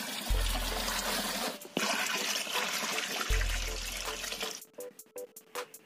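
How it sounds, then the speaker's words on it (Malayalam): Water poured from a container into an old tyre being made into an aquarium gushes and splashes steadily in two long pours, then trails off into trickles and drips, close by. "പിന്നെ നമുക്ക് വെള്ളം ഒഴിച്ചു കൊടുക്കാം."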